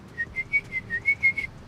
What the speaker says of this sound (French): Vous sifflez la nuit